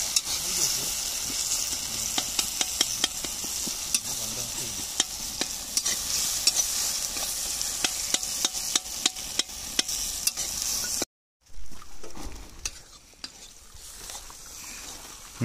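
Chicken with onions sizzling and being stirred in a pan at an outdoor village feast, a steady loud frying hiss with frequent sharp scraping clicks, briefly cutting out before resuming more quietly with faint voices.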